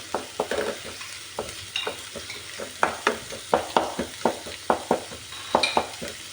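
Ivy gourd sautéing in a pan with curry leaves, a steady sizzle broken by repeated sharp scrapes and clacks of a spoon stirring, close and fairly loud with no talk.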